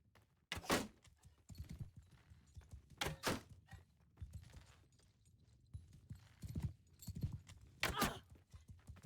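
Horse hooves in a medieval battle video game, a horse archer moving, heard as irregular thudding clip-clop beats mixed with sharp loud impacts at intervals, moderately quiet overall with no talk.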